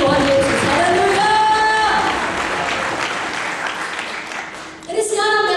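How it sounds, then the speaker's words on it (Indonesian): A church congregation at a service gives a full, sustained round of applause, loud and continuous before tapering, while a voice speaks or sings over the clapping at the start and end. "Kalau tepuk tangan untuk Tuhan Yesus."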